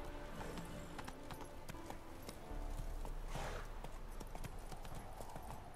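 Steady clip-clop of horse hooves on a hard surface in the video game The Witcher 3: Wild Hunt, a rhythmic trotting gait with faint background ambience.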